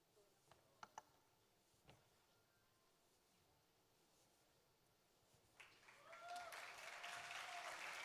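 A few scattered clicks over near silence, then conference plenary audience applause breaks out in the last few seconds and swells into steady, moderately loud clapping.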